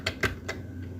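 A few sharp key presses on a computer keyboard while entering a network ID in Cisco router configuration, three or four distinct clicks in about a second over a low steady hum.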